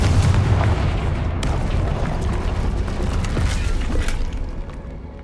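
The Confringo fire spell from Hogwarts Legacy detonates in a heavy, booming blast with sharp crackling debris, its deep rumble rolling on for several seconds before tapering off, with no voices.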